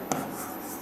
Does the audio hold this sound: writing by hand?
yes